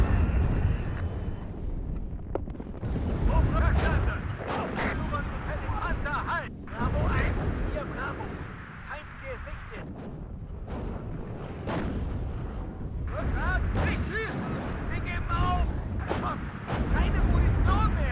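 Artillery in the WARNO video game thuds with repeated deep booms and distant gunfire crackle spread across the scene, under ongoing talk.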